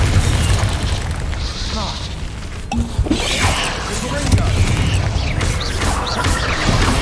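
Spell blasts from Bombarda and Confringo burst repeatedly in a Hogwarts Legacy game fight, dense crackling booms layered over busy game noise and music, with a voice speaking between the hits.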